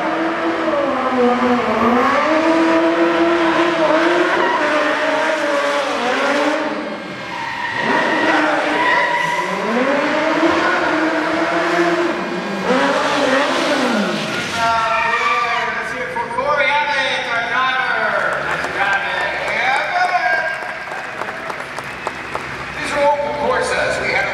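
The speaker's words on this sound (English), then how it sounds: "Hey, Alter, can we get a pursuit car to camera alley?" A pursuit car races through a live stunt show at Hollywood Studios, engines revving and rising in repeated sweeps with skids, loud and close, while an announcer talks over it and an audience applauds.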